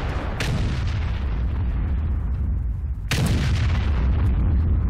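Artillery firing in World of Tanks: a loud, deep boom with a sharp onset near the start and a second heavy blast about three seconds later, each followed by rumbling low-end decay over steady game noise.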